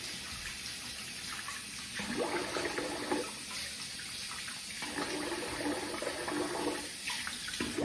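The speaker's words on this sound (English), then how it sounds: "I'm gonna rinse the face here." Tap water runs steadily into a sink while someone rinses their face after shaving, with splashing that shifts as hands move through the stream; the sound is fairly quiet and has no talking.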